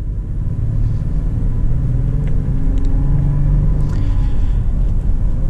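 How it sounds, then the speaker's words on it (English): A 2020 Toyota 4Runner Limited Nightshade Edition SUV accelerates, its engine a steady low rumble with a slight rise in pitch, heard from inside the cabin and continuous throughout with no talking. "We're gonna get a little acceleration here with the 4Runner."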